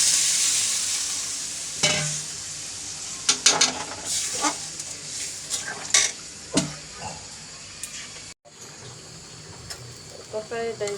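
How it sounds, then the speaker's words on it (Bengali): Chicken curry meat sizzles and spits in hot oil in a pan after browning, with clattering stirring strokes and a brief cut before water is added, the frying hiss steady and close throughout. "মাংসটা কষানো হয়ে গেছে, মাংসটা জল দিয়ে দিই।"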